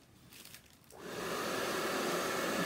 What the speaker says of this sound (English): you have to be careful and not to blow dry the chocolate product too much because it will melt it